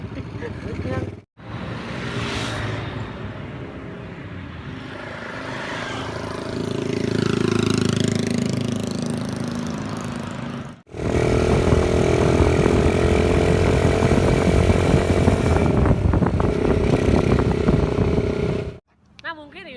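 A custom chopper motorcycle engine runs loud and close, rising and falling in revving sweeps across several separate bursts with brief silent gaps between them.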